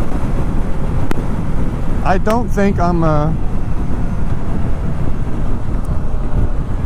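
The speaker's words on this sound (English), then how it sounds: "It's just a windy ass day." Heavy wind roar buffeting the microphone while riding a 2018 BMW K1600 Grand America motorcycle on a gusty day, a loud constant rush throughout with someone speaking briefly over it.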